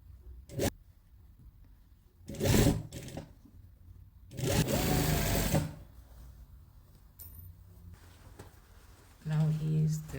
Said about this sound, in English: we are overlocking now the waistband under so that you won't cut anything